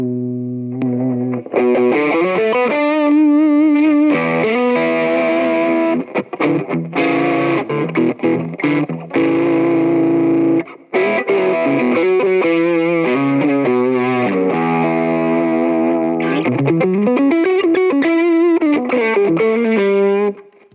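Electric guitar runs through stacked distortion pedals on a pedalboard, producing loud, thick, saturated chords and bending notes that sustain continuously with brief pauses between phrases, close and alone.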